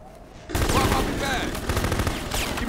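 Rapid bursts of gunfire in the video game Full Spectrum Warrior crack and rattle continuously after a brief quiet start, loud and dense, with voices mixed in beneath the shooting.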